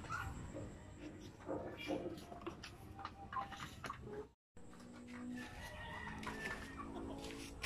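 Hens cluck and murmur continuously nearby, with a rooster crowing in the mix, over steady outdoor background noise and occasional voices.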